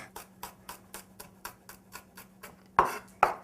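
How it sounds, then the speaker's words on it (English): A knife chops garlic cloves on a cutting board in a steady run of about a dozen light, evenly spaced taps, followed by two louder, sharper knocks, close up with no talking. "I'm just going to chop up the garlic"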